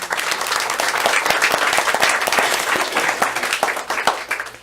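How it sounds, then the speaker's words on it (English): An audience applauds at a school board meeting, a loud, full burst of clapping with many hands that holds steady throughout. "Can we please give them a round of applause?"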